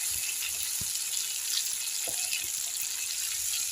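Bitter gourd pieces sizzle in hot oil in a pan, giving a soft, steady frying hiss with a few light clicks and taps from the pan, moderately faint and without any talking.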